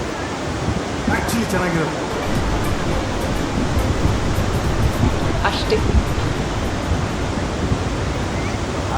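The Gagana Chukki waterfall at Shivanasamudra near Mysore roars as a steady, loud wash of rushing water, while a person speaks briefly over it.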